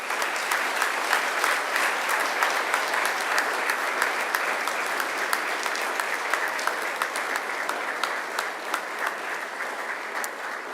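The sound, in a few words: graduates applauding family and friends at a graduation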